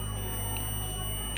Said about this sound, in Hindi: बीप की आवाज़ आ रही है, आपको ये सुनाई दे रहा होगा।